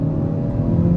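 2024 Kia Forte GT2 turbo four-cylinder pulling hard under acceleration, a steady close engine drone lasting about a second with no voices.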